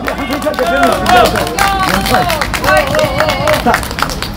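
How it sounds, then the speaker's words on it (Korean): An outdoor political rally crowd claps steadily while voices shout and chatter over it, a dense, close wash of hands and cheering that holds for several seconds. "큰 박수로 부탁드립니다"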